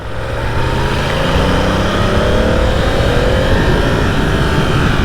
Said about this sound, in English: it's always an experience getting on the road with a brand new bike